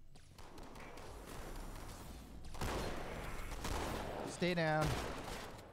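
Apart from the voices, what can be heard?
gunfire in the video game Halo 2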